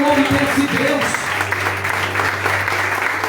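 A church congregation claps during a sermon, a steady wash of clapping under a loud voice and a low sustained tone.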